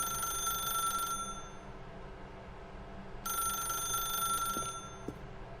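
Telephone ringing inside The Stanley Parable video game: two bright electronic ring bursts separated by a pause of low room hum, loud and close with no voices.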